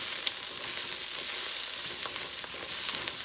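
Shrimp fry in a generous amount of oil in a pan for shrimp fried rice, giving a steady, close, crackling sizzle that holds at an even level throughout with no voices.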